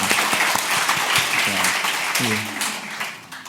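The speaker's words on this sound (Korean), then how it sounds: "우리 남성 찬양 한 번 더 격려의 박수 드리겠습니다" Church congregation claps in encouragement for a men's choir, a short burst of crowd applause with a voice talking over it and brief tonal sounds beneath.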